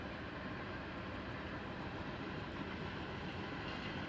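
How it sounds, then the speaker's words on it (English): A train passes by in remote countryside near a lake, producing a continuous, even, broadband rumble and roar that holds steady without breaks, fairly faint and distant. "there's a train going by"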